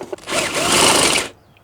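A power drill with a 10mm bit bores into the metal of a Citroen Relay camper van, making one loud, steady grinding burst of just over a second that then cuts off.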